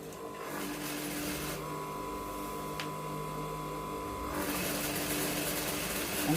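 Domestic sewing machine stitching the second side of a butterfly boubou garment: a steady mechanical whir and hum runs throughout, changing in tone partway through, with no talk over it.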